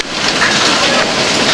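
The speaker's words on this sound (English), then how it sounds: "Water and hail." A hail storm with rain, a dense, loud, steady roar of falling water and ice, with no break across the short stretch.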